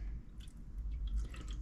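Distilled water poured into the tank of a record-cleaning machine, heard as short wet splashing and dripping bursts, close and moderately loud with brief pauses.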